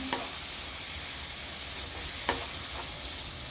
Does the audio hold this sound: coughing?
no